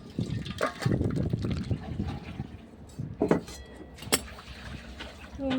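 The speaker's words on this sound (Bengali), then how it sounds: "মাছটা ঢেলে নেওয়া" Rohu fish curry with kalai dal bori is poured out of a cooking pot, giving wet, uneven splashes and sloshes at close range, with some faint voice in the background.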